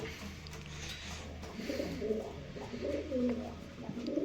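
Pigeons in a loft coo with soft, low throaty warbles, several overlapping calls repeating close by against a quiet room background, without speech.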